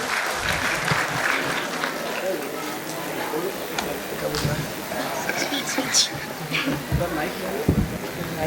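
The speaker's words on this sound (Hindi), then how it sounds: "एक बार जोरदार तालियां बलवंत सिंह रघुवंशी सर के लिए" Applause for Balwant Singh Raghuvanshi at a school annual function, with a dense, steady wash of clapping hands from the gathered crowd that carries on for several seconds, mixed with a few sharper claps and some background voices.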